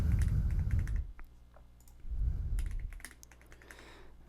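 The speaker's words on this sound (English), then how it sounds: "So here we can just type a password." Password typed on a computer keyboard, a quick run of crisp key clicks in two bursts, close and quiet, over a low background rumble.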